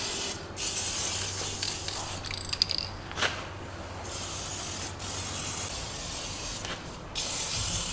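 A hand grease gun working the fittings on a CFMOTO CFORCE 800 ATV during a service, with close clicking lever strokes, mechanical ratcheting and a hissy spray of grease over a steady background.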